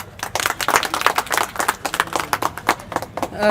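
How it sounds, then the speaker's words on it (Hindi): A crowd claps steadily for a few seconds at an election campaign ground event, scattered hands beating in a loose, lively rhythm nearby. "ताली बजाइए भैया"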